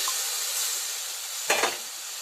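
Milk poured into a hot pan sets off a steady, hissing sizzle, with a brief louder splash and bubbling burst partway through.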